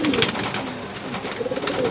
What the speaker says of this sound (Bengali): অসাধারণ কোয়ালিটির কবুতর মাশাল্লাহ